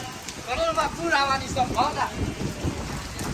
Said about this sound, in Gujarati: વરસાદ તો બહુ જોરદાર છે